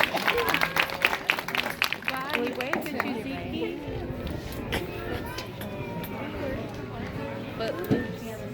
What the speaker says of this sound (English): let's give a round of applause to Harvey